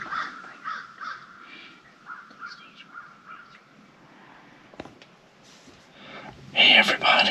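Crows cawing in Louisiana woods during a deer hunt, a series of rough repeated calls at moderate distance, with quiet whispering voices and a louder close rustle near the end.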